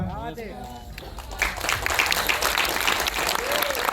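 A film screening audience breaks into sustained applause, steady dense clapping from a crowd that follows a few seconds of someone speaking into a microphone.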